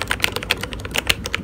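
Keys on a gaming keyboard with dedicated game keys click rapidly and unevenly, about a dozen crisp, close taps in a quick typing burst, with no voice present.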